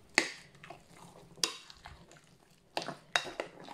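Utensil scrapes and clinks against a bowl as a thick chicken mince mixture is stirred, with irregular knocks and soft squelches between them.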